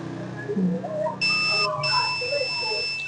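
A steady high-pitched beep from an electrical line tester sounds close by at a low-voltage industrial panel, briefly interrupted then continuing, over a faint background murmur.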